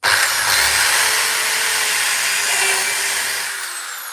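A power drill bores a hole into the top of a wooden carving, a loud sustained high whine that holds steady and then winds down near the end.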